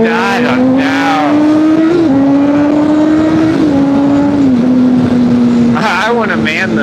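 A Honda CBR600RR motorcycle engine drones loudly and steadily, its pitch climbing slowly with small dips, while wind rushes over it and a voice talks throughout.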